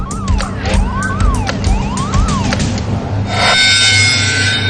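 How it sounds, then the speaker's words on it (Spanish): Wailing gas alarms on an offshore oil platform's production deck in the North Sea sweep up and down over a low engine rumble, then a harsher, steady high-pitched alarm takes over, loud and continuous. "Las alarmas de gas sonaron en la cubierta de producción."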